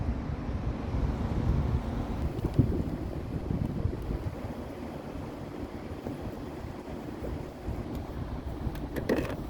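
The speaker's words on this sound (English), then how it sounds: "I'm gonna be just listening to wind noise on the way home" Steady, fairly faint wind noise roars against the microphone of a rider on a motorcycle, a low rumbling buffet with occasional small gusts.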